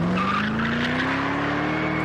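Car from a Dodge commercial sliding on a deliberately wetted road, a loud engine note rising steadily in pitch over continuous tire scrub and skidding noise, close and unbroken throughout.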